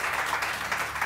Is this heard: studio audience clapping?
yes